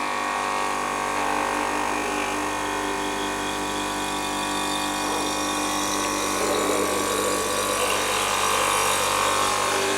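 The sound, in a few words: pump running after the power is switched back on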